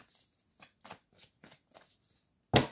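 A deck of cards is shuffled for a card reading, giving a series of short riffling bursts at a steady pace and ending in a louder, close final riffle, with no voices.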